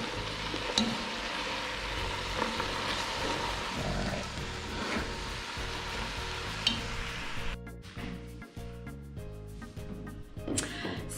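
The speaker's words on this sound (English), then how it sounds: "Stir it all up." Steamed callaloo being stirred in a pot, a steady sizzle with scraping spoon strokes throughout, the texture thinning and breaking up near the end.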